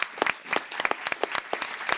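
A room of guests at a public radio member night applauds the small membership team, a dense, lively burst of many hands clapping close by for about two seconds, with no talk over it.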